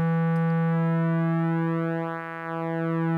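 A subtractive synthesizer's pulse wave oscillator holds one steady, buzzy tone with dense harmonics, loud and alone, with a slight dip in level and timbre near the end.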